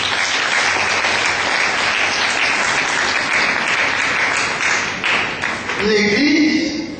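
A church congregation applauds with loud, sustained clapping that fills the room for several seconds, then thins out as a voice starts speaking over the last of it.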